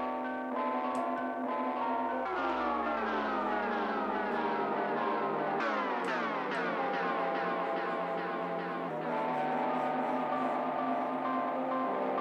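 Warping, pitch-bending delay echoes from the Waves Lo-Fi Space plugin with automated BPM, smeared tones sliding and repeating in dense layers, loud and steady throughout with no voice.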